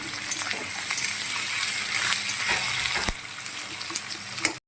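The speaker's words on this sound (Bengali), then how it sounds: "হালকা ব্রাউন করে একটুখানি ভেজে নেবো আমি।" Salted onions frying in a pan until light brown, a steady loud sizzle with occasional stirring scrapes, close up and without talk.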